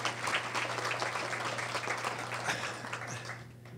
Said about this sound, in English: They deserve your applause and approbation.